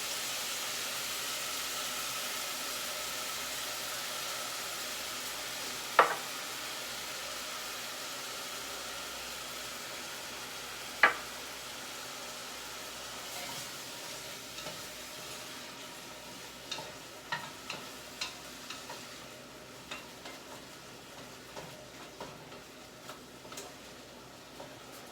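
Onions seasoned with salt and pepper fry in a pan, giving a steady faint sizzle and hiss throughout, with a few sharp clicks and taps of utensils scattered over it and no talking.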